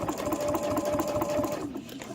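A sewing machine runs steadily while stitching a cross body sling bag, a close, even mechanical whirr with a rapid rhythmic needle beat throughout.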